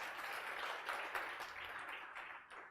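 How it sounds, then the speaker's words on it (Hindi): A class applauds loudly, producing a dense, steady wash of clapping from many hands that stays even throughout and fades slightly at the close. "तो एक बार जोरदार तालियों के लिए"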